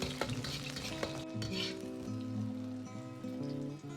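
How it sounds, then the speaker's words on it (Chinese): Ginger and garlic stir-fry in a little oil in a wok, giving a steady close sizzle with scraping stir strokes and small crackles throughout, and no talking. "锅中留少许的油，下入姜蒜，先炒出香味"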